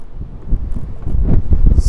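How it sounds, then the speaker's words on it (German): Strong gusting wind at Caminito del Rey in Andalusia, Spain buffets the microphone with a loud, low roaring rumble that builds over the short clip. "So, jetzt windet es extrem da."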